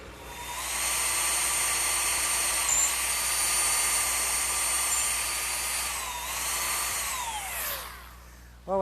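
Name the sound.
drum sander smoothing an angled wood cut freehand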